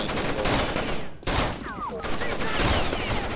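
Rapid bursts of automatic gunfire crackle almost nonstop in Rainbow Six Vegas 2 Terrorist Hunt on the Trainyard map, with a brief pause midway before the loud shooting resumes.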